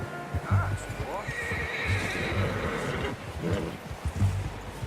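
A horse in the Red Dead Redemption 2 video game whinnies loudly up close over steady hoof clip-clop and game ambience, while people talk in the background.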